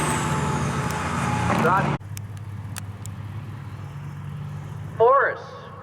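A 2007 Volvo single-axle semi truck roars past at an outlaw semi drag race at Cecil County, a loud engine burst that cuts off abruptly, then a quieter rumble and a brief second surge, with an announcer talking over it.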